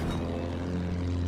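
Propeller warplanes droning overhead in Battlefield 1, a steady low engine hum with a harmonic whine, held at a fairly constant level with no talk.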